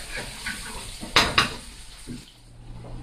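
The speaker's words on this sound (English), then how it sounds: "Let that fry until it's a nice golden color" Garlic frying in oil in a pan for seasoned rice, a soft steady sizzle with a couple of sharp metallic clinks of a utensil against the pan partway through.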